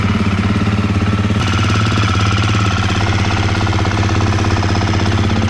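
A GASGAS EC350F dirt bike engine, just refitted with a thermostat delete kit, runs loud and steady at close range with a fast, even knocking idle throughout, and no voices.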